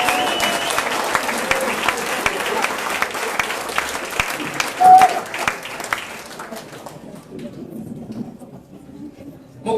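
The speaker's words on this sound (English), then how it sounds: "please give yourselves a round of applause." Audience applause at a book launch, a dense patter of many hands clapping steadily for about six seconds, then thinning out and fading to scattered claps.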